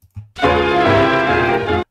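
A single sustained reedy bandoneon chord swells in and holds for over a second, rich in harmonics, then stops abruptly, the bandoneon playing alone in a 1939 tango.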